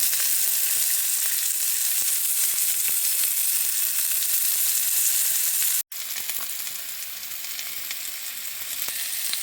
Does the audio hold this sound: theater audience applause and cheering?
no